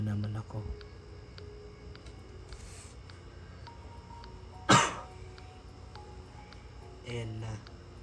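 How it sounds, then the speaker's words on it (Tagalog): A person coughs once, sharply, about midway through, over a steady bed of background sound, with voices heard around it. "Inuubo na naman ako."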